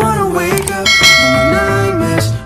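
A bright, ringing bell chime rings out loud and close with harmonic tones for a couple of seconds, used as a notification sound effect in a makeup tutorial vlog; no voices.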